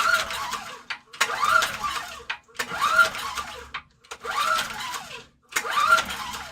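An engine cranks in five bursts on starting fluid without catching, each attempt a rough churning whir separated by short pauses, fairly close and moderately loud, no voices.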